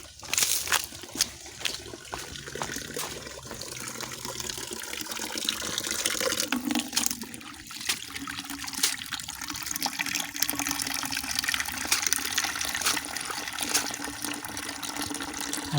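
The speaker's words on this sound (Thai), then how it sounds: "แป๊บนึงเอาไปใส่น้ำมา" Water runs from a tap into a container to collect fresh water for keeping crayfish, a steady continuous splashing pour that carries on throughout with no voices.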